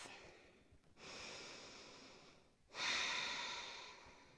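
Deep, slow yoga breaths, a soft exhale followed by a longer, stronger inhale, close and alone with no talking.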